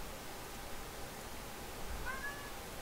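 A cat gives a single short, faint meow near the end, heard over a steady background hiss.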